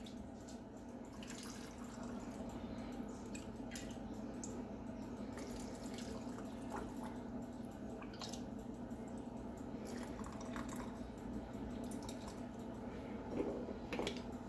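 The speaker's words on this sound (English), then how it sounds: "we're just going to fill this up with some fresh filtered water" Fresh filtered water runs into a canning jar packed with buttercup squash for pressure canning, a soft, quiet stream with faint drips and splashes close by.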